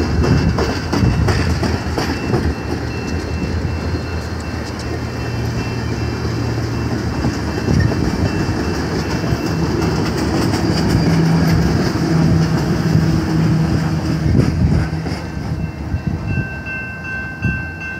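Rocky Mountaineer 8012 passes nearby, a loud, steady rumble of wheels clattering over rail joints, with sustained horn tones and a ringing bell cutting through in the middle stretch.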